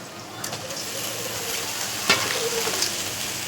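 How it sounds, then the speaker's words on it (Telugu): Spinach dropped into a pan of frying ginger garlic paste: steady close hiss and sizzle of oil with occasional crackles and a stirring scrape, continuous throughout with no talk. "ఈ పాలకూర అయితే దీంట్లో వేసేస్తున్నాను."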